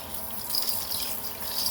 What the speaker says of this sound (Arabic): هنفتح ميه سخنه من السخان